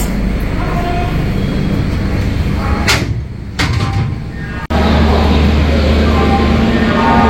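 Inside the Puri Shatabdi Express departing Howrah Junction, a loud, steady running rumble is broken midway by a few sharp clunks and a sliding-door-like sweep, then the drone returns at full strength.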